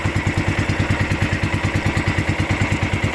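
A small fishing boat engine chugs steadily at close range, its low rhythmic thumping pulses continuing evenly throughout with no voices.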